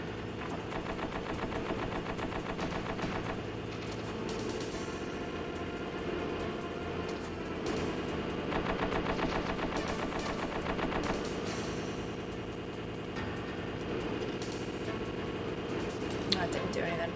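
Rapid cannon gunfire in the Metal Gear Solid video game, a dense, unbroken rattle of shots that keeps up for many seconds, with a player talking over it.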